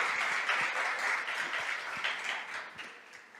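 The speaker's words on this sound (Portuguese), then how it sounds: "Você pode aplaudir o Senhor?" Church congregation applauding together, a dense wash of many hands clapping steadily and fairly close, gradually thinning toward the end.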